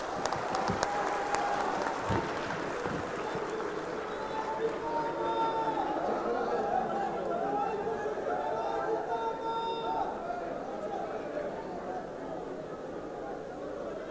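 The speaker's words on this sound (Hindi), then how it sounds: "जोरदार तालियां बजा कर" A large crowd at a political rally in Jaipur, Rajasthan, for Deputy CM Dushyant Chautala claps and cheers in a continuous wash of sound, with shouting voices and crowd chatter blended in throughout, heard from a distance.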